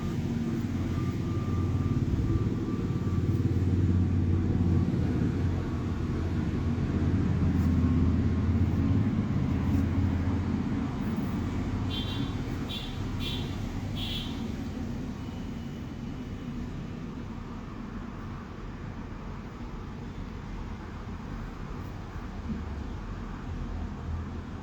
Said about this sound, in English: there is so much traffic noise at this time